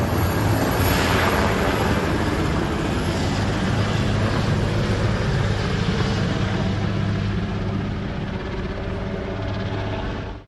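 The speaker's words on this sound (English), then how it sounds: "the president's helicopter, Marine One, flew overhead" Loud continuous rotor and engine roar of Marine One, the US president's helicopter, passing overhead, a dense steady wash of noise that fades slightly at the end.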